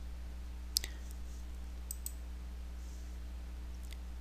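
A computer mouse clicking during an Edmodo tutorial, a few sharp, isolated clicks spaced apart over a quiet, steady electrical hum.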